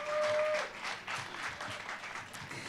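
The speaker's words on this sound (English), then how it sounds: "We can give him another round of applause" A round of applause at a national small business and cooperatives summit: a dense, even patter of many hands clapping, fairly soft and sustained across the moment, with a brief tone at the start.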